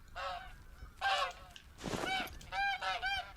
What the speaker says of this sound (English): Why do I always get stuck with the bloody geese?